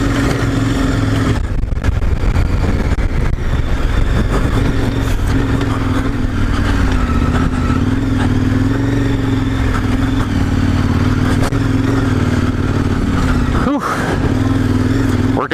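A KTM Adventure R motorcycle, either the 1290 Super Adventure R or the 1090 Adventure R, heard while riding with a steady loud engine drone and heavy wind rush throughout.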